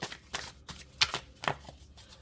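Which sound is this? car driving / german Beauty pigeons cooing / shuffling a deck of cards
shuffling a deck of cards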